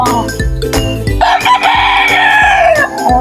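A silver gray rooster crows loudly and close, one long sustained call, while chickens cluck and make short sharp calls throughout at a farm with young birds kept nearby.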